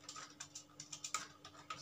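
Typing on a computer keyboard produces quiet, close key clicks in a quick, uneven rhythm, several taps in short bursts with brief pauses between them.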